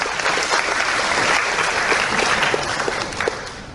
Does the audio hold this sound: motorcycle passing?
no